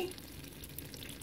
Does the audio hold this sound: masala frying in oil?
yes